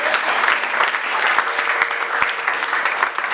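A church congregation claps and cheers in praise of the Lord, dense sustained applause from many hands filling the room at close range, with a few sharper individual claps standing out.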